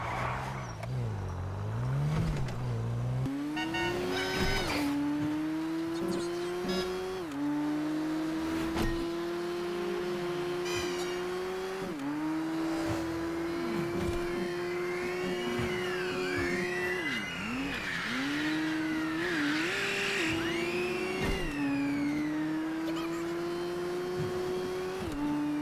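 A taxi car driving in GTA 5 Online, with an engine droning and rising through gear shifts and revs, steady and loud throughout, plus sweeping whooshes and tire squeals near the end.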